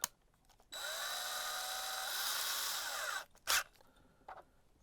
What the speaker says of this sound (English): Put that in our handy dandy drill here.